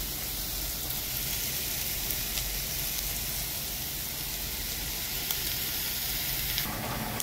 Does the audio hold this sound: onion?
yes